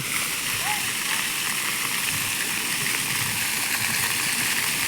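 A large outdoor water fountain in Korea splashes in a steady, loud, unbroken rush of falling water that fills the whole scene, with faint voices mixed in.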